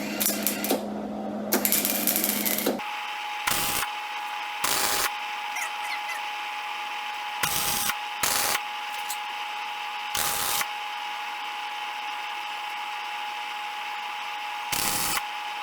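Tack welding on the tail pan of a 1953 Chevrolet. Short, crackling arc bursts come in separate tacks over a steady background hum, with several distinct welds spaced seconds apart.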